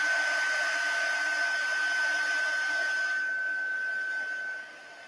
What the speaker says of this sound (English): waiting for that heat tool to heat up